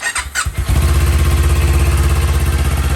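A 2021 Kawasaki Z400 fitted with a Hindle megaphone exhaust fires up after a couple of short bursts and settles into a steady, loud, even idle burble close to the listener.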